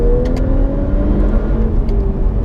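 Remapped Audi S5 engine dropping a gear with paddle shifters, a loud steady drone with shifting engine tones and faint clicks, heard from inside the car.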